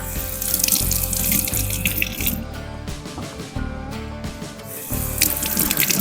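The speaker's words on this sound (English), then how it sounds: "These need to be rinsed off a little bit, so let me do that real quick." Vegetables rinsed under a running kitchen tap for beef stroganoff, a steady close rush of water into the sink that shifts in tone as the food moves under the stream, with no talk.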